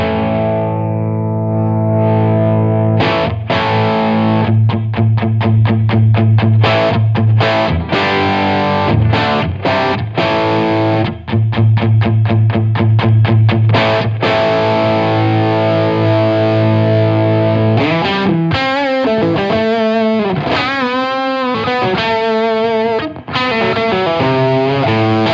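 Electric guitar through a Wampler Golden Jubilee overdrive pedal, overdrive channel with gain turned all the way down: loud, continuous chugging riffs with rapid repeated notes, shifting into sustained warbling chords near the end, played alone.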